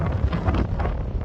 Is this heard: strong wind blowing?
yes